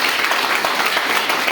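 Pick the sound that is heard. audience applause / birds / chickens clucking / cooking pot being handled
audience applause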